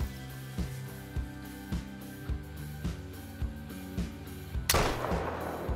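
A single loud rifle shot cracks out at a bison in the hunting game theHunter: Call of the Wild. Evenly spaced low thuds come before it, and a sharp burst and short tail follow.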